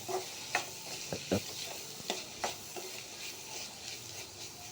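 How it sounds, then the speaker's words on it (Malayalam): Onions with salt and turmeric stirred in a pan, a low sizzle under repeated spatula scrapes and knocks, irregular but frequent, close and fairly quiet. "ഇനി നമുക്ക് ലേശം മഞ്ഞൾപ്പൊടിയും കൂടെ ചേർത്ത് കൊടുത്തിട്ട് നന്നായിട്ടൊന്ന് ഇളക്കി യോജിപ്പിച്ചെടുക്കാം"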